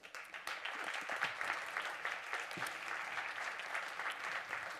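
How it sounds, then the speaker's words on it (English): An audience at a panel event gives steady, moderate applause for panelists coming on stage, a dense wash of clapping from a crowd of some size, heard at a distance. "let's give them a warm applause"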